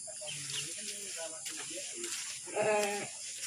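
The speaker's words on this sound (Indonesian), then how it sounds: "Domba ini, domba Garut itu." Garut sheep bleat in a rural village setting, several wavering nasal calls at close to mid distance, the loudest near the end, over a steady background hum with people talking nearby.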